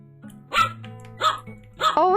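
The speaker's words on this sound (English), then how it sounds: "Oh my god, that barking is so loud." A cartoonish dog bark in the video game Outer Wilds, three loud yappy barks spaced roughly evenly apart over a low droning game background.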